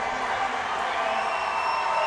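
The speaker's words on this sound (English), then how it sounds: "Grace Gardner off to a thunderous applause from the Cardinal fan base as Jazz Graham checks back in." A crowd at a girls' high school basketball championship game claps and cheers steadily, a dense, sustained roar of applause with faint whoops and no clear break.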